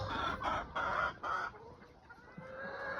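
Chickens cluck and murmur nearby in a steady, busy chatter with a few louder bursts early on, no talking.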